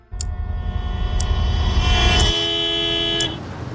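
A car horn honks loudly in one long sustained blare in rush hour traffic, close by, over a low engine rumble.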